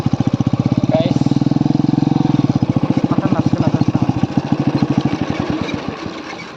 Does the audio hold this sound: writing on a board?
no